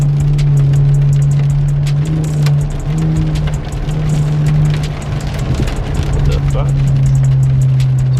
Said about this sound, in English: Yeah, a few little downshifts.